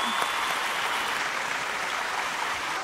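Sustained audience applause at a Sun TV family awards show in 2023, a dense, steady wash of clapping from a large crowd that holds evenly throughout with no talk over it.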